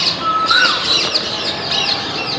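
Birds call at Thiruchendur, with chirps and squawks that may include peacocks and parrots. The calls repeat continuously at moderate loudness over a steady outdoor hiss.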